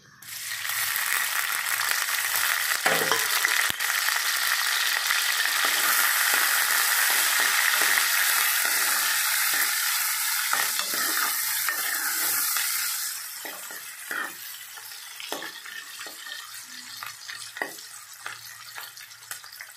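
Bitter gourd (boda kakarakaya) sizzles loudly in plenty of oil with green chili and onion, a dense steady frying hiss that eases after about thirteen seconds into softer crackles and occasional stirring scrapes.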